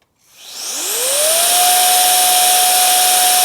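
A VSGO air duster fitted with its fastest nozzle spins up from silence into a loud, close, sustained whoosh with a rising motor whine that settles into a steady high pitch.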